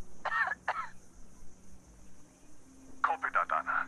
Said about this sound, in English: Just coughing a lot.